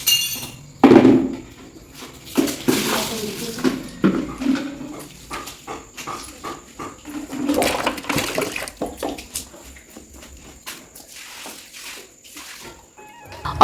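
Water splashing and sloshing as a floor is washed during a big household cleaning, with irregular wet splashes and scrubbing in uneven bursts, some close and loud, alongside occasional clinks.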